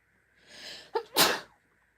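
A single close sneeze: a rising breathy intake followed by a sharp explosive burst, then quiet.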